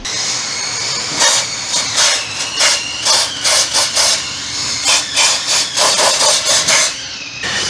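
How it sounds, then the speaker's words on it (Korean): Aerosol parts cleaner sprayed in repeated short hissing bursts onto a diesel engine's mount area during maintenance work, loud and close, with brief pauses between sprays. "한번 클리너 갖다 살짝 뿌려볼까요?"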